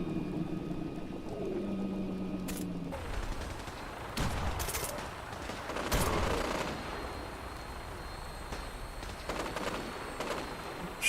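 Gunfire in Fallout 4 during a fight with super mutants: a few sharp, loud shots ring out amid a busy, noisy backdrop, followed by scattered bursts and rattles, with no speech.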